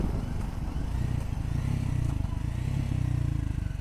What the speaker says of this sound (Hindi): यहाँ पे इंजन ब्रेकिंग